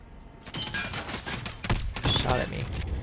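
Rapid bursts of gunfire from Call of Duty: Modern Warfare during a one-on-one Gun Game match on the Rust map, dense crackling shots packed together, with a player talking over them.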